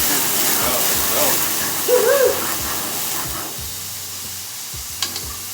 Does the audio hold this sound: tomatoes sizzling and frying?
yes